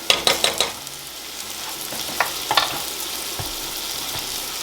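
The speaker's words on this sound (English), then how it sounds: "Now we're just gonna add just a touch of butter." Butter melting in a pan of onions cooked down until clear, for spinach and artichoke dip, gives a steady close sizzle and frying hiss with a few sharp crackles and stirring scrapes near the start.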